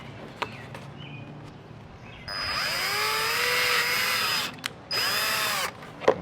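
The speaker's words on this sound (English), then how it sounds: "we're just gonna drill it right here" A power drill whines loudly into a plastic part on a Ford Mustang GT in two long bursts, with a short pause between them, after a few quiet clicks and handling noises.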